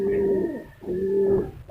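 Racing pigeons cooing close by, two drawn-out coos in quick succession with a brief pause between, clear and alone without talk.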